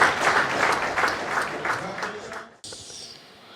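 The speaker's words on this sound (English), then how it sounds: "Shall we please give them a resounding round of applause?" An audience at a governors' forum breaks into applause, a dense wash of clapping heard through a crowd with a voice over it, cutting off suddenly near the end.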